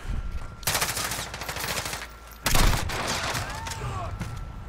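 Renetti burst pistol firing in Modern Warfare, with loud close rapid bursts of shots that break out twice and ring over a busy layer of game noise.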